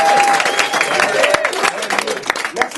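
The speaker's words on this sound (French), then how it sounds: "Et pour le deuxième, vous applaudissez maintenant" A crowd applauding to vote for the second puzzle: steady, lively clapping from many hands, with a few voices and cheers mixed in under it.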